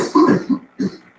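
A person gives two short throat-clearing coughs, a harsh burst followed by a quick second hack after a brief pause, close and fairly loud.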